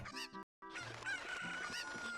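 Chickens in the video game Ocarina of Time cluck and squawk in quick bursts, broken by a brief silence, with a sustained cartoonish cry, fairly loud and close.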